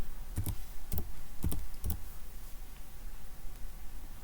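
A Lenovo laptop keyboard is typed on in a few quick clustered bursts of clicky keystrokes over a steady background hum, then falls quiet, with no voices.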